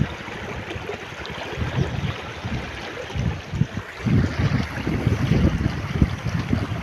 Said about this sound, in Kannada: ಸಮುದ್ರ ತೆರೆ ಅದ ನೋಡ್ದಂಗೆ